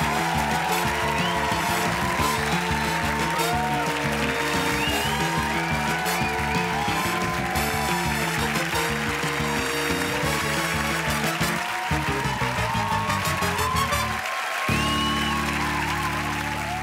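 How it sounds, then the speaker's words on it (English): A studio audience at Taskmaster applauds for the winner, Mel, at the close of the episode. Steady, moderately loud clapping runs throughout underneath prominent music. "A big round of applause for Mel."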